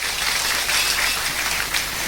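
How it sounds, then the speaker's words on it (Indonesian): An audience bursts into sustained, dense clapping during a religious study gathering in Indonesia, a steady roar of many hands filling the room without pause. "tepuk tangan dong buat santri seluruh Indonesia"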